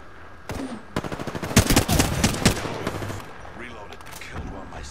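Gunfire in the Apex Legends video game, with a single shot followed by a dense burst of rapid automatic fire and scattered later shots, loud and close, with a voice speaking briefly.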